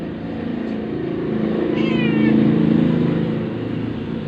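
A single short meow from a playful, noisy pet cat rises briefly over a loud, steady low rumbling hum.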